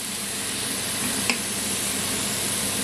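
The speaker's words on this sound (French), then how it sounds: "Et on va laisser mijoter." Lentils with added tomatoes simmer in a pot, giving a steady, even bubbling hiss throughout with one sharp utensil tap midway.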